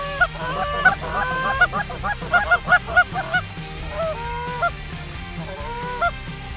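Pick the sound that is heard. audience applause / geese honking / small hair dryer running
geese honking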